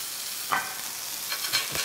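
Smash burger patty sizzling on a hot griddle, a bright continuous hiss with a few small pops and spatters, close up and with no talk.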